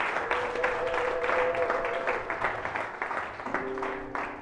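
A church congregation applauds, a sustained crowd clapping with scattered voices and tonal cries mixed in, slowly thinning toward the end.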